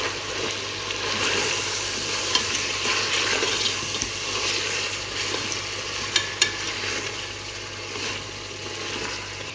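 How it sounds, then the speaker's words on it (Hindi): Spices fry with mutton over a medium flame in a continuous, close sizzle with a hissing wash, broken by a few sharp clicks of a utensil, and no one speaks. "ये स्पाइसेस मैं अब इसमें डाल दूँगी और तकरीबन 10 मिनट इसकी मीडियम फ्लेम पे मैं मज़ीद भुनाई करूँगी"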